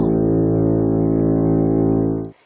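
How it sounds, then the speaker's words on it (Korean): A single loud, steady horn blast holds for about two seconds, rich and droning, then cuts off abruptly. "큰 나팔 소리가 울려 퍼졌어요."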